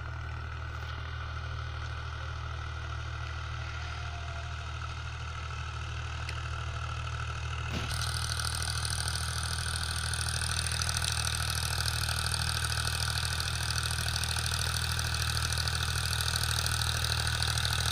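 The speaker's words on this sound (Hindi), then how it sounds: "एकदम बिंदास ट्रैक्टर चल रहा है" A Powertrac 445 tractor engine running a 7ft Sonalika rotavator at about 1600 RPM in low second gear, a loud, even drone that grows brighter and harsher partway through and holds without dropping.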